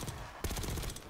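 A gun firing in Call of Duty Black Ops 6, a rapid burst of shots over a constant noisy game backdrop, with a sharper onset partway through and repeated evenly spaced reports.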